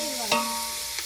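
Onions and green chilies fry in a pan, a brief hissing sizzle with a sharp stirring scrape near the start and a softer knock near the end, no voices.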